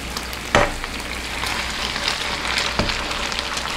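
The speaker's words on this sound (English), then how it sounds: "It's time to add the noodles." Samyang hot chicken flavor ramen noodles drop into a hot pan of sizzling kielbasa, a steady close frying hiss marked by a sharp clatter as they land and another knock near the end.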